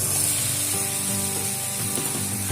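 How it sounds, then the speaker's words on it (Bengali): Goat fat frying in a pan with jackfruit curry, a continuous hissing sizzle with soft rubbing stir sounds, close and steady, no talk. "খাসির চর্বি দিয়ে এবার ভালো করে আবারও একটু কষিয়ে নেব।"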